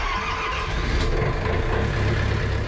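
An old diesel engine on a fishing boat at a harbour on Shodoshima is cranked in cold winter weather, a loud continuous churning rumble that runs throughout.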